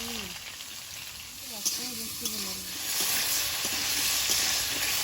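Potatoes with turmeric fry in oil in a wok, a soft sizzle and hiss that swells louder in the second half, after a brief stretch of talk near the start.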